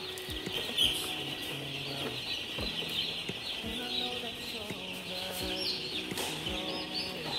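Busy poultry-house bed of chirping broiler chicks and clucking birds, steady and dense, with scattered clunks and crate-handling noises throughout.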